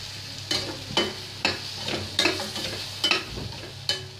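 Thinly sliced potatoes are stirred as they fry in a pan: a close, sizzling hiss broken by a string of about eight rhythmic scraping strokes of a spoon, with no voices.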